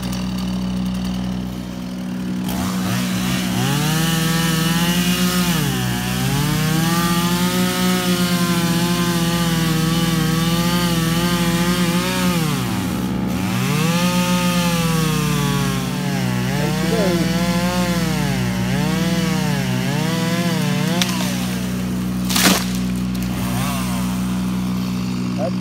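A chainsaw cuts down a tree offshoot, its engine droning loud and close the whole time, the pitch rising and dipping as it revs and bites into the wood, with a sharp knock near the end.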